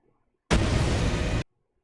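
Sustained loud explosion burst in a video game, roughly a second of dense, broadband roar that starts abruptly and cuts off sharply, alone without talk.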